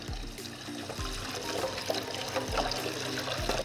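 Hot water from a kitchen tap runs steadily over a bowl coated with melted chocolate, a continuous close splashing hiss with no voices.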